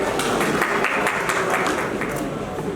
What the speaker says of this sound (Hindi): दीपक और नेहा, तालियों से इनका स्वागत कीजिए प्लीज।